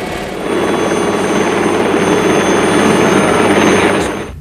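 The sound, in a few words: NOTAR helicopter with jet thruster instead of tail rotor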